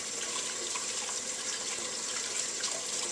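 Tap water runs in a steady, close hiss at a kitchen sink while a boiled egg is peeled under it for potato salad.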